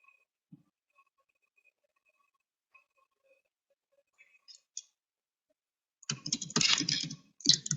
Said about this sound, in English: I'm just typing the content.